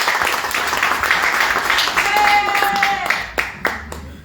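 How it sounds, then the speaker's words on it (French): An audience at a municipal election campaign launch applauds, a dense wash of clapping that swells and then thins out into a few scattered claps, with people talking underneath. "On l'applaudit, s'il vous plaît."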